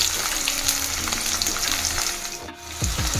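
Peanuts, dried red chillies and turmeric fry in oil with a steady close sizzle and crackle, punctuated by stirring scrapes near the end, no voices.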